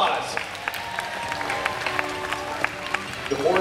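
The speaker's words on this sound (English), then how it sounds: "Give them a big round of applause." An audience at a Fear Factor Live stage show applauds as four contestants are introduced: a dense, steady wash of clapping and cheering that runs the whole time, with a voice talking over it.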